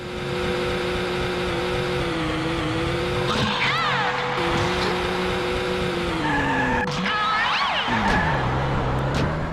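Small, lightweight police car in a video game skidding through turns without the handbrake, tires squealing in long wavering screeches over a steady engine drone, with a siren-like tone in the mix.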